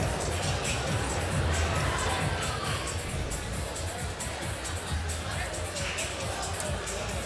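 Crowd noise from a New York event audience, a steady broad roar of many voices with loose cheering running continuously at moderate loudness throughout.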